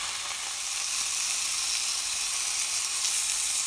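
Tuna searing in a hot pan, browned quickly on each face: a steady, dense sizzle and hiss, close and fairly loud, holding level throughout with no voices.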